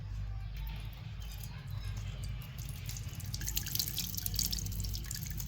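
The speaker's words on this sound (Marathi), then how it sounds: "पाणी काढायचं आपण खाली गाळ राहतून वरचंच असं ओतून काढायचं" Faint trickling and dripping of water being poured off a ground paste in a container, leaving the sediment behind, soft and close, building slightly toward the end.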